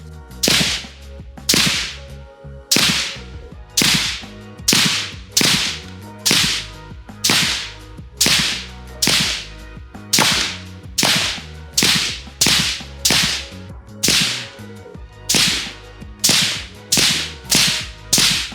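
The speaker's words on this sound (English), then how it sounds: "you're gonna hear a lot of difference between a titanium suppressor and a flow-through Inconel suppressor" Repeated sharp rifle shots through a flow-through Inconel suppressor at a steady pace, about one per second, each a crisp crack with a short decay, continuing for a long string of rounds.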